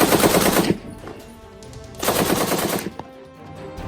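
Two long bursts of fully automatic fire from an M1918 BAR rifle, each lasting under a second, loud and close, with a rough rattling echo trailing off between them.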